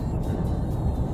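Isuzu D-Max pick-up with a 1.9-litre 136 hp diesel engine, a steady low rumble heard from inside or near the vehicle, continuous and fairly loud with no talk.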